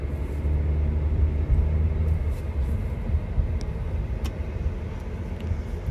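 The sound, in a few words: 2023 Acura Integra with 1.5 liter turbo 4-cylinder engine driving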